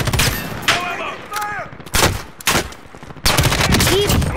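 Gunfire in Call of Duty: Modern Warfare, loud close bursts of shots in several clusters with short gaps between them, over a game soundscape.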